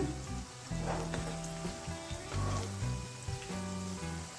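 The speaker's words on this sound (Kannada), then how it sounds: "ನಿಧಾನ ಉರಿಲಿ ನಾವು ಇದನ್ನು ಫ್ರೈ ಮಾಡ್ಕೊಳ್ಳೋಣ" Okra (bhindi, lady's finger) frying slowly on a low flame in oil, a steady close crackling sizzle broken by occasional stirring and scraping, with no talk.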